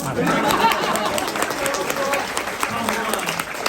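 An audience claps steadily and densely throughout at a seminar-style business showroom event, with crowd chatter and voices mixed beneath the applause.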